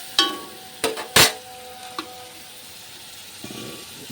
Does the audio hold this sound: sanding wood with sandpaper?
no